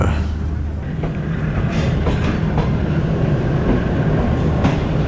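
The Shalimar Express rolls out of a station in Pakistan with a loud, steady rumble and rhythmic wheel clatter on the rails, heard close from on board with no clear speech.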